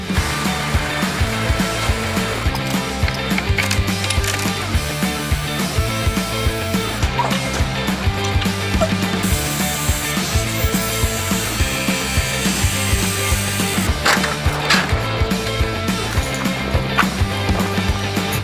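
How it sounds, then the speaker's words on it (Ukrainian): Old roof covering is torn off during repair work on an apartment building, a dense, continuous din of scraping, banging and rattling material that stays loud and busy throughout. "На данном этапе мы демонтируем старое покрытие"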